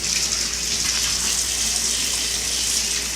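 Tap water runs steadily into a kitchen sink as flour-covered hands are washed, a continuous close hiss with no pauses or talk.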